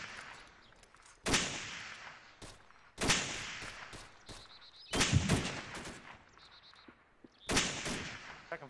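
Gunfire in a firefight among pines, with sharp loud shots and short bursts arriving in spaced clusters roughly every couple of seconds, each trailing off into echo over a quiet background.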